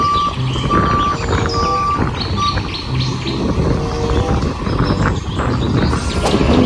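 A toy sand truck gives off a string of electronic reversing beeps, bright repeated tones in short bursts over a busy, cluttered background with faint chirping sounds mixed in.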